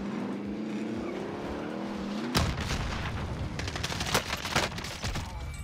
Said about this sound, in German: warum ist das C4 überhaupt explodiert?